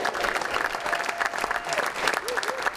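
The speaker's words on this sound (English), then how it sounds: "Give yourselves a big round of applause." Packed studio audience gives a warm, sustained round of applause, dense and steady, with a few voices and whoops mixed in.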